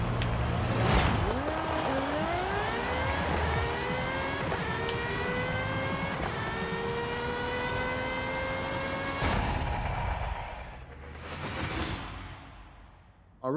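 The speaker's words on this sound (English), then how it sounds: "it's quite a fast drag car" A GMA T.50 supercar in Forza Horizon 5 revs hard through rising gear sweeps, its engine pitch climbing repeatedly, loud and continuous, then easing off near the end with a brief whoosh.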